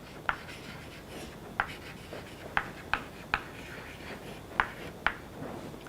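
Chalk or a pen scratches out handwriting during a lecture on parameter estimation. Short, sharp strokes come at uneven intervals, about eight in a few seconds, over a quiet room with no speech.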